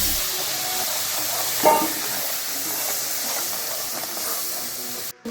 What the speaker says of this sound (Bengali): দেখুন মশলাটা দেওয়ার পর ফুটতে শুরু করেছে